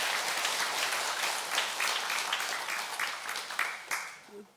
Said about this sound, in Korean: 포장을 받은 것도 박수 한 번 더 쳐주시기 바랍니다